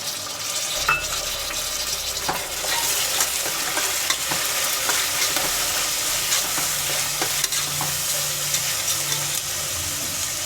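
Masala with vegetables, soaked dried peas and golden-brown onions being stir-fried for vegetable pulao, a loud steady sizzle with frequent spatula scrapes and knocks against the pan, no speech.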